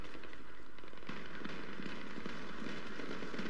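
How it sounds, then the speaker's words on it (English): Rapid crackling gunfire from a Battlefield 3 match, faint and distant-sounding, with short bursts of shots popping steadily throughout. "someone's shooting me"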